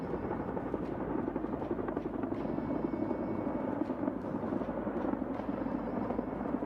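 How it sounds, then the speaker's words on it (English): An Indian Air Force Mi-17 upgrade helicopter moves over a battlefield during a firepower exercise, giving a steady, continuous rotor and engine roar at moderate distance that holds without letup throughout. "The Mi-17 upgrade helicopter moving into the battlefield for winch operation."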